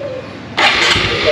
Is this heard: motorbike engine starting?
yes